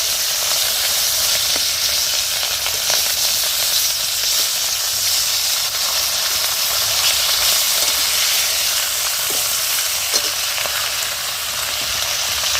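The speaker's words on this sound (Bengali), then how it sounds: "এদিকে মাছটা ভাজা হোক" Loud, continuous sizzling of fish frying in hot oil in a kadai, a bright steady hiss close by with faint occasional pops.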